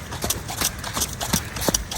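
Horse hooves clip-clop steadily during a riding lesson, a close, regular rhythm of sharp footfalls on firm ground with a faint noisy background and no voices.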